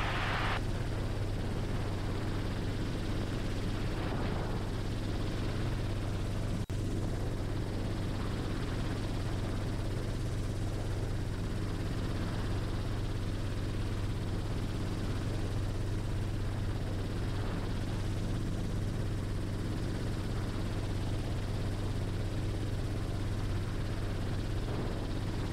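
Steady, droning rotor and engine noise fills the cabin of a helicopter flying around the Great Salt Lake, a continuous low hum with no talk.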